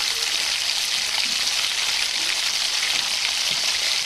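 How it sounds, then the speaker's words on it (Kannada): Onions, garlic and green chillies fry in hot oil for egg fried rice, making a continuous, even sizzle and crackle that holds steady throughout. No one speaks. "ಆಮೇಲೆ ಮೂರು ಆನಿಯನ್ ಹಾಕ್ಕೊಂಡು ಚೆನ್ನಾಗಿ ಫ್ರೈ ಮಾಡ್ಕೋಬೇಕು"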